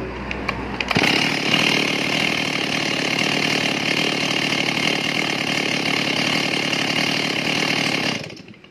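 A used Stihl MS 382 chainsaw engine starts abruptly and runs loud and steady at high revs for several seconds, then cuts off at the end; no talking.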